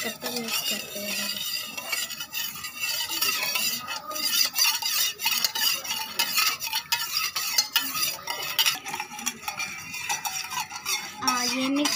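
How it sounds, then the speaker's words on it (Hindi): Lemon juice mixture being stirred in a container, with steady spoon scraping and clinking against the sides, continuous and close for the whole stretch, no talking. "जब तक ये मिक्स नहीं होगा हम लोग तब तक मिक्स करते हैं।"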